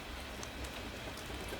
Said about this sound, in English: Outside, the rain has softened to a fine mist